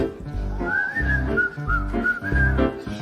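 A melodic whistled tune rises and falls over a bouncy instrumental backing with steady bass beats, the whistling clear and prominent.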